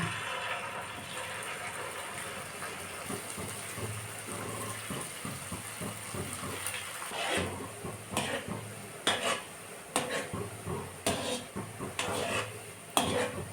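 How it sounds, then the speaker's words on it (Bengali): Semolina and bread pieces fry in hot oil in a wok, a steady dense sizzle running throughout with louder clattering bursts of stirring and utensil knocks in the second half, close and without talk. "কড়াইয়ে তেল দিয়ে দিলাম এবার ভেজে নেব সবগুলোকে"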